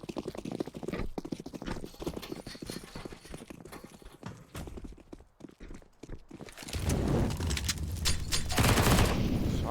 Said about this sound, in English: Shots off Oscar.